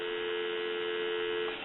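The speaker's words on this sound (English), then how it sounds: "give you some dial tone." A steady telephone dial tone hums continuously from a repaired ITT Trimline football-helmet telephone, even and unbroken, heard on its own over a narrow phone-line sound.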